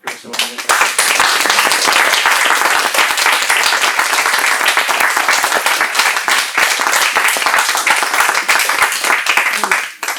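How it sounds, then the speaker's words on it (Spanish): Loud, sustained applause from a conference audience, dense clapping filling the whole stretch with a brief murmur of voices near the start. "vamos a despedir a Javier y a Cristina con un fuerte aplauso"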